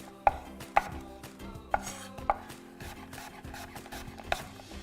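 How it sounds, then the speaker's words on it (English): A knife slices apples on a cutting board for an apple plum sauce, giving about six crisp, quiet chops at an irregular pace, close up with no voices. "So I'm just gonna take and slice these down."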